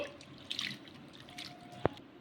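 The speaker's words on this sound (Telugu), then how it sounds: "ఒక రెండు సార్లు అయితే అటుకుల్ని కడిగేసుకుందాము" Soft splashing and dripping of water in a bowl as flattened rice (poha) is washed, with a few small sloshes and one sharp clink; quiet and close, no talking.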